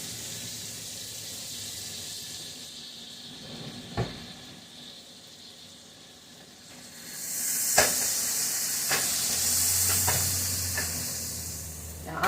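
Butter sizzling in a frying pan, a soft hiss swelling into a louder, steady crackling fizz, with a few sharp clinks and scrapes of utensils against the pan.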